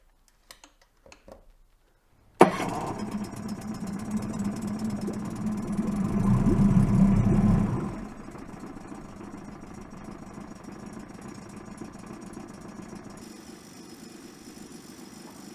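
A Tohatsu 9.8 HP outboard motor gives a few quiet clicks, then starts abruptly and runs loudly with a revving surge before dropping to a steady, close idle.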